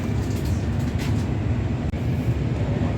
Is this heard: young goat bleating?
no